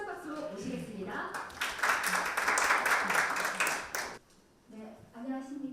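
At a Korean National Assembly forum on sustainable health insurance, a burst of audience applause swells for about three seconds, with a speaking voice just before and after it.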